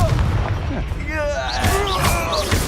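Explosive magic blasts and battle effects from the Confringo spell in the Hogwarts Legacy video game, booming and thudding over a busy game soundtrack with voices and whooshing effects throughout.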